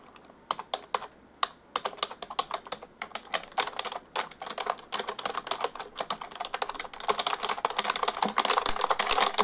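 A password is typed on a computer keyboard: rapid, close clicking keystrokes in uneven bursts, getting busier and louder toward the end, with no talk.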